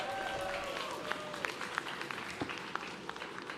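A crowd at a pickleball tournament's bronze playoff gives a thinning round of applause, settling into scattered individual claps, fairly distant and soft, with faint voices in the background.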